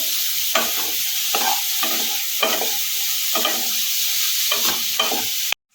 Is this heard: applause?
no